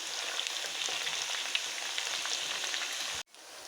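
Okra pieces frying in hot oil for bhindi masala, a dense steady sizzle and crackle that cuts off abruptly near the end, leaving a quieter hiss.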